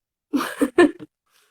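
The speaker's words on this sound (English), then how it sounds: "Oh, my father is sneezing." A man sneezes indoors in a short burst of several explosive bursts close to the microphone, followed by quiet.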